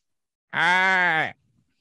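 A person's voice imitates a goat's bleat during a tabletop role-playing game session: one sustained, nasal, strongly tonal bleat lasting under a second, close and clear, with silence before and after.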